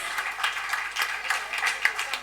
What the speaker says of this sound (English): I think you really deserve a big round of applause